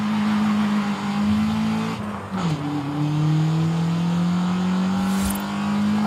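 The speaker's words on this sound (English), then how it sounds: "Some of these engine noises have me wondering if the Forza folks know how to mic these things." A car engine in the Forza racing video game drones at high, steady revs, dips briefly as it shifts down, then climbs again in a sustained, loud whine, with a short tire squeal near the end.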